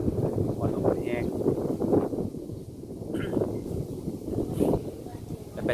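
Strong outdoor wind buffets the microphone with a continuous rumbling roar, heard beneath people talking throughout.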